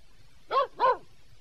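A dog barks twice in close succession, two sharp, fairly loud barks close by over a quiet background.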